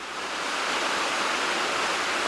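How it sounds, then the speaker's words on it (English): Steady wild waterfall in the Colorado Springs area, a continuous broadband rush of falling water close by, loud and unbroken, with no voices. "drink this wild, natural, cool, refreshing waterfall water"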